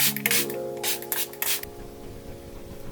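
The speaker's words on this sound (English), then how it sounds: "I'm going to spray my face with the Mario Badescu" Several quick hissing bursts of Mario Badescu facial spray misted onto a face, close and crisp, followed by soft rubbing handling noise.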